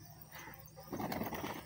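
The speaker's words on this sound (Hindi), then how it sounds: "देख सकते हैं पूरा कबूतर मेरे इधर ही।" Fancy pigeons, including Shirazi and blue bar birds, call close by, with soft coos and squeaky notes that grow busier and louder partway through. Wings flap briefly.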